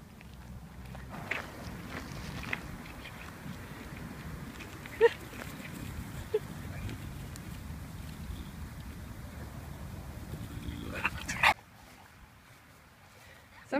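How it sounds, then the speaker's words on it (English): A dog at an outdoor dog park, its occasional faint barks and whimpers scattered over steady wind-like background noise, with a person talking nearby before the sound cuts out near the end. "So here we are at the dog park"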